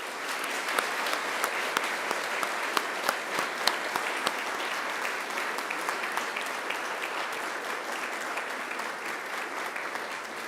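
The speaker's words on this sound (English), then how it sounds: "please give them a huge round of applause" Graduates at a university graduation ceremony applaud their families and friends, a dense, steady wash of many hands clapping from a large seated crowd that carries on without a break for the full stretch.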